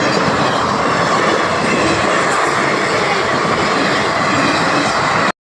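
Trains roll past a railway level crossing near Odela, giving a loud, steady, close rumble with rhythmic wheel clatter that holds throughout and then cuts off abruptly.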